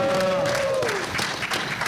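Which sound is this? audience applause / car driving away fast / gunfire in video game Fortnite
audience applause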